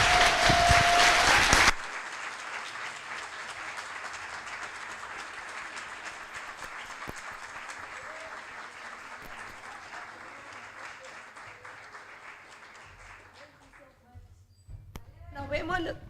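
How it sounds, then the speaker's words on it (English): Audience at the close of a Latin R plenary talk by Hannah Frick breaks into applause, loud at first, then a long, gradually thinning patter of clapping that tails off as voices and movement return. "one round of applause to Hannah."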